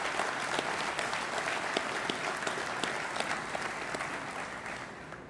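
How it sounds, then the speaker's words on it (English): Steady, sustained applause from a crowd at a U.S. Navy Second Fleet establishment ceremony in Norfolk, dense clapping holding at an even level throughout and tapering slightly at the end, with no voices over it. "So how about a round of applause for the team that pulled this together?"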